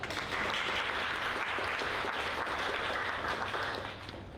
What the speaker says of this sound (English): Well, let's give her a round of applause.